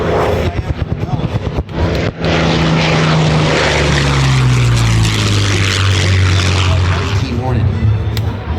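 A Bearcat propeller fighter with a 2,200-horsepower engine roars loud and near past an airshow crowd, its deep engine drone sweeping down in pitch as it passes, with faint voices underneath.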